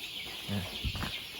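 Crossbred chickens, mixing fighting cock and native breeds, let out a couple of brief, soft clucks nearby over a quiet background.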